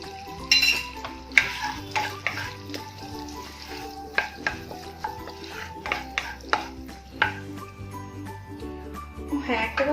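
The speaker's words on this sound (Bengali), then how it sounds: "এবার আমি এতে তেজপাতা দিয়ে দিচ্ছি একটা ছিঁড়ে, আর দিচ্ছি অল্প একটু এলাচ আর লবঙ্গ।" Whole spices—a torn bay leaf, cardamom and cloves—sizzle and fry in hot oil and butter, a steady crackle under clinks of utensils against the pan and background music.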